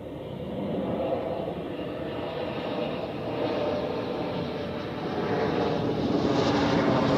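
An airliner touches down at Zurich Airport with a continuous, loud engine roar that builds gradually toward the end, a broad rushing drone heard close without any talking.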